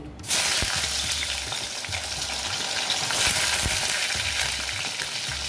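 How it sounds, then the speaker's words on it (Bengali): Rui fish pieces fry in hot oil in a pan, a loud, continuous close sizzle that starts abruptly and carries on throughout with faint crackles and small knocks. "দেখো মাছগুলো আমি দিয়ে দিচ্ছি"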